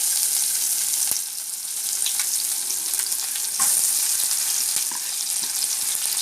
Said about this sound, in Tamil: வெங்காயம் நல்லா வதக்கி விட்டுறலாம்.